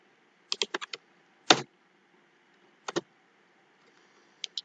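Clusters of computer keyboard keystrokes as Java code is typed: a quick burst of taps, one sharp louder press, a pair of clicks, then two faint taps, all close and alone against quiet room tone.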